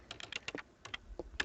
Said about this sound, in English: he's typing to a nice beat